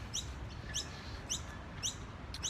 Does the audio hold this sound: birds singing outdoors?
yes